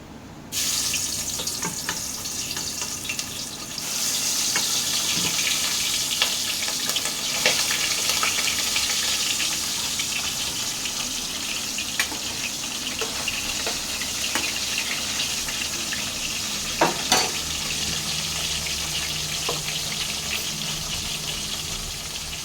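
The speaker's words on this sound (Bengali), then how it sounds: "তেলটা আমার গরম হয়ে গেছে, আমি মাছগুলো একটা একটা করে ছেড়ে দেবো।" Bhola fish rubbed with salt and turmeric goes into hot oil, setting off a loud, steady sizzle with occasional crackles and pops that keeps going throughout.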